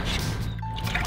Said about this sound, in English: let's rinse it off real quick